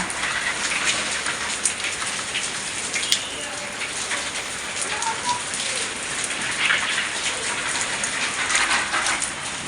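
Heavy rain pours steadily during cyclone Remal, a dense, continuous hiss of drops striking surfaces nearby, loud and unbroken throughout with no voices.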